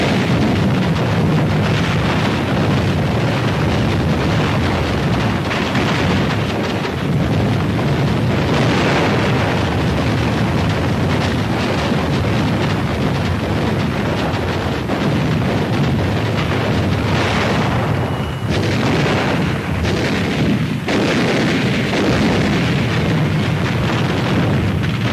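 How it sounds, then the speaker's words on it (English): Naval gunfire bombardment at Iwo Jima, supporting warships firing point-blank shore barrages: a continuous, loud, dense rumble of explosions and booms with no clear gaps, heavy with low-end roar and wind-like noise. "supporting ships deliver point-blank fire"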